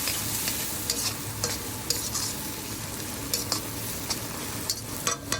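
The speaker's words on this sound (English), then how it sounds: "Saute them until the onions are completely mixed in the oil." Chopped onions sautéing in hot oil, a steady close sizzle under repeated scraping stirs and light clinks of a utensil against the pan.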